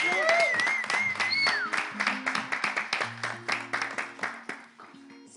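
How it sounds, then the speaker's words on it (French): An audience on a French TV show applauds. The clapping builds into a dense, rhythmic patter of many hands, with voices and a musical tone mixed in at the start. "Est-ce qu'on peut encore les applaudir, s'il vous plaît?"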